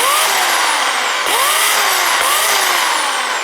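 Oregon CS1500 electric chainsaw cutting wood, a loud close high whine that dips under load and recovers in repeated bogging cycles, continuous and harsh with no talk.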